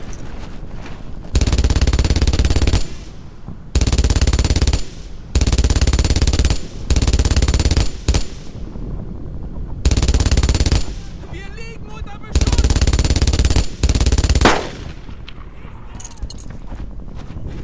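Loud sustained bursts of machine gun fire in the World War II shooter Brothers In Arms: Earned In Blood, several long volleys separated by brief gaps, with a player's voice speaking over the fighting.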